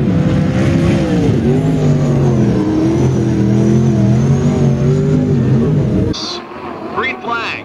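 Race cars roaring around the track at Skagit Speedway, a loud sustained multi-engine drone rising and falling in pitch under a commentator's voice, then cutting to a brief quieter moment with a sharp high screech.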